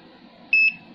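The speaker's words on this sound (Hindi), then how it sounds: "हल्का सा बीप आया और बंद हो गया।" A multimeter gives a single short, faint electronic beep while its probes test a small SMD capacitor during mobile phone repair, with a steady low hum around it.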